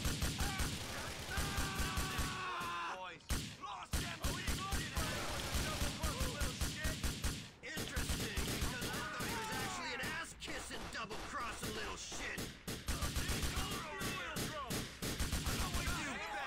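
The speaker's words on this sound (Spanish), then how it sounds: "En su tiempo eran los sonidos de disparos más realistas." Gunfire in the video game GTA IV: The Lost and Damned, with dense, loud bursts of rapid shots and explosive cracks packed together across the whole stretch, and occasional voices mixed in.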